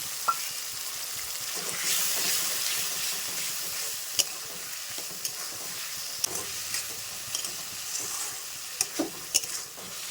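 A spice paste of ginger, garlic, onion, cumin, coriander and chilli with a little water fries in a pan, sizzling softly while a spatula stirs it, with sharp scraping clicks that grow more frequent toward the end.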